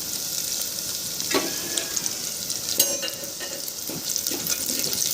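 Garlic sizzles in a pan, a close crackling hiss with a few sharper clinks and scrapes from a utensil against the metal, no talking.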